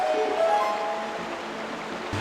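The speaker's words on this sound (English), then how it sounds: "We got some water flow." Steady, even rush of flowing water from a stream in The Legend of Zelda: Twilight Princess, continuous and moderately loud with no voices over it.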